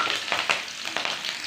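Chopped onions with whole cinnamon and cardamom fry in hot oil, a brief close crackling sizzle with a few sharper pops.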